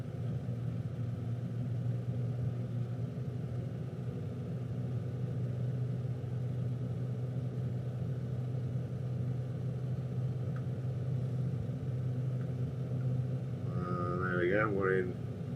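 Beechcraft 35 Debonair single-engine piston plane in Microsoft Flight Simulator, a steady close engine drone with a low rumble holding constant throughout, then a brief rising tonal sweep near the end.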